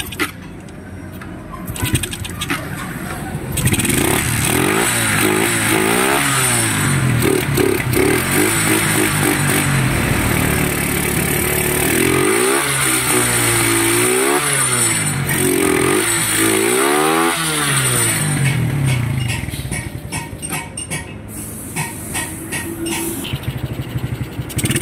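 Suzuki motorcycle engine, left sitting for five months, starting and revving in repeated rising and falling bursts, loud and close, with bird calls faintly in the background.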